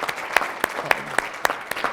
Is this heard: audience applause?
yes